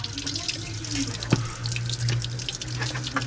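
Steady running water splashes and gurgles into a sink, with small shifting splatters as a washable aftermarket air filter from a Yamaha Aerox scooter is rinsed under the stream, close and continuous.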